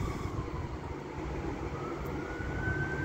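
An Avanti West Coast Class 390 electric train pulls away from a platform on the West Coast Main Line, a steady loud rumble and rolling roar with rising motor whine throughout.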